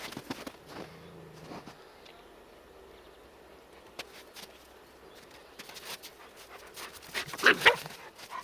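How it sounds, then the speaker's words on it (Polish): A Shetland sheepdog growls low at a big German shepherd outdoors. The growl is brief, quiet and close, followed by faint panting, whimpers and footsteps, with a louder burst of dog noise near the end. "Dlaczego na niego warczysz?"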